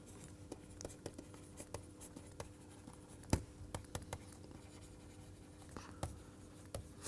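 Pen or chalk writing during a lecture, faint scratchy strokes and taps at an irregular pace in a quiet room.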